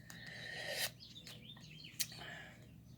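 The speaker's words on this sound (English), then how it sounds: "The little birds in the nest beside me, they're feeding their birds today" Small birds chirping from a nest beside an open window, faint high tweets and rasping calls over a low steady hum, with a couple of sharp brief bursts and no one speaking.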